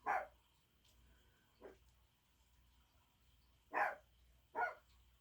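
A young dog barks a few times with short, sharp yips separated by pauses, somewhat distant against a quiet background.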